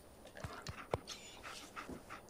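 Dogmeat, the dog companion in the video game Fallout 4, pants close by in quick, breathy bursts, a few sharp puffs followed by softer huffs over a quiet background, with no speech.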